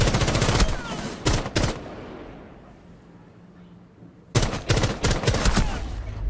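Bursts of rapid automatic gunfire in a Rainbow Six match on PS4, loud close volleys at the start and again after a quiet gap, with a short lull of low ambient noise between.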